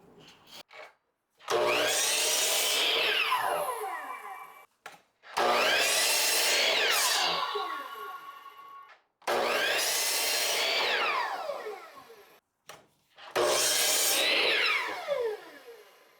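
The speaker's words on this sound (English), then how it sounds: "Okay, let's cut the boards." A power saw cuts through 1x4 cedar boards in four separate passes, each a loud rising whine that sinks as the blade bites into the wood and then spins down, with short quiet gaps between cuts.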